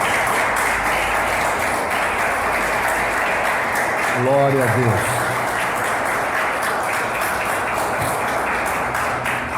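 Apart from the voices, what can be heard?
congregation applauding in church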